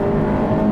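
Turbocharged engine of a 2022 Honda Civic Hatchback with a 6-speed manual revving on a winding road, a loud, close, steady droning hum with strong harmonic tones and no pause.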